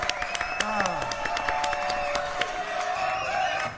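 A studio audience at a television show applauds, with lively clapping, cheers and whoops, while voices talk over the crowd noise before it tapers off.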